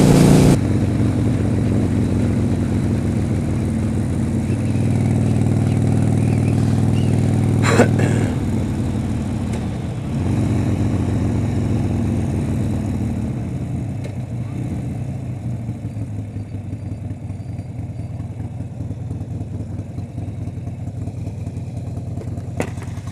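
A Harley-Davidson Sportster 72 with a 4.5-gallon tank and lift kit rumbles steadily while ridden on a freeway, loud and close, its engine note easing slightly in pitch toward the end.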